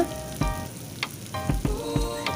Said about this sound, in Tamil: சேர்த்துட்டு நல்லா வதக்கிக்கோங்க.